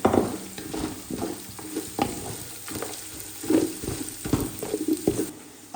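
Ginger and garlic frying in a pan for a spiced rice dish, with a bubbling sizzle broken by irregular clinks and scrapes of a stirring spoon, close and without speech.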